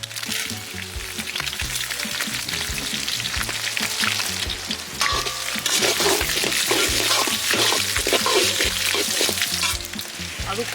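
Cumin and dried red chillies fry and are stirred in wood-pressed coconut oil. A dense, crackling sizzle carries on throughout, with spatula scrapes and clinks against the pan and no voices.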